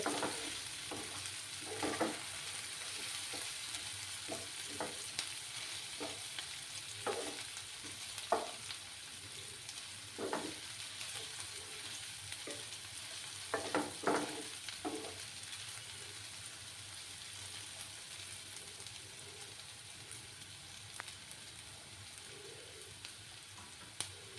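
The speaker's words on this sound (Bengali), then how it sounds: "এটাকে ভেজে নেব যতক্ষণ না আদা রসুনের কাঁচা গন্ধটা যাচ্ছে" Ginger and garlic frying in hot oil, with a steady continuous sizzle throughout and occasional soft scrapes of a spatula stirring in the pan, close and moderately quiet.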